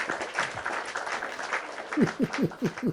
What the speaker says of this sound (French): un tonnerre d'applaudissements pour toute l'équipe